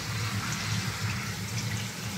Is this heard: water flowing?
yes